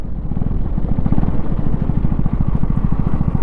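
A Husqvarna Vitpilen 250 motorcycle engine runs loud and close, a low, steady, pulsing single-cylinder drone with a rapid firing rhythm under acceleration, with no talk.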